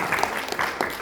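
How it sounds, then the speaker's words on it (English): Audience applause for a speaker at a panel discussion, a brief burst of clapping with a few sharp claps standing out. "I think we can all give a big round of applause to you."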